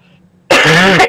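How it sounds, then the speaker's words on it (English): One harsh, loud cough bursts out close by after a moment of near silence, then cuts off abruptly. "I may have to stop if I can stop coughing."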